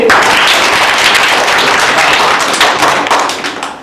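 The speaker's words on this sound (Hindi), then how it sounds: "इन सभी टीम को ले जोरदार तालियां बजाएंगे।" Applause for the teams at a school English quiz, dense clapping from a group that runs steadily for a few seconds before tapering off, with faint background voices.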